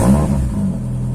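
A Renault 19 16-valve engine fitted with a new all-steel exhaust revs briefly and then settles into a loud, deep, steady rumble heard up close.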